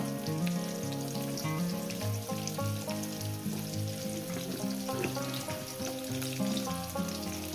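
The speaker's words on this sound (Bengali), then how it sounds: "আলুগুলো দিয়ে সুন্দর করে লাল লাল করে ভেজে নেব দিয়ে দেবে একটু হলুদের গুঁড়ো" Potatoes fry in oil with a sprinkle of turmeric for a chicken dish, giving a steady, dense sizzle close up that runs unbroken throughout, with soft stirring scrapes and no talking.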